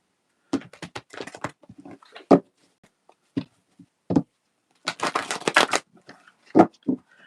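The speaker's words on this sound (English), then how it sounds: "we're going to shuffle the angel cards" A deck of angel cards being riffled and shuffled in quick bursts, with short snaps and longer flurries separated by quiet pauses, close to the listener.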